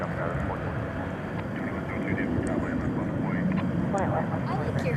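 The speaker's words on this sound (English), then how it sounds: "There goes American Flight 4824 to Oklahoma City." An American Airlines jet departs DFW at night bound for Oklahoma City, its broad, steady roar continuous throughout while people talk over it.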